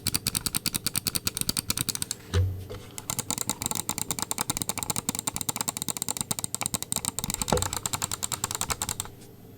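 Rapid, steady clicking from a Noir M1 Lite computer mouse's switches, dense and close with a slightly soft, cushioned quality, a couple of heavier thumps breaking in, no voices.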